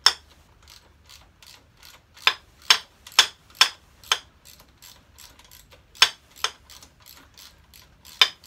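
A Halfords socket set ratchet loosens the rear shock bolt nuts on a Yamaha MT-07 motorcycle. Close, sharp clicking bursts come at irregular intervals, with quiet gaps between them and no talk.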